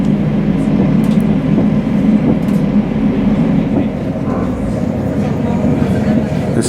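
A train runs through a short tunnel on the line near Yarm and Eaglescliff, a steady, loud, enclosed low rumble with a constant roar throughout and no clear clickety-clack beats.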